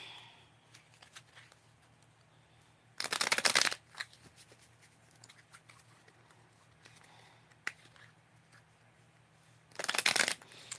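Tarot-style cards shuffled for a reading, in two short crisp riffling bursts separated by several seconds of quiet room hum, with no talking.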